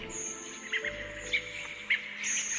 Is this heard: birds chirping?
yes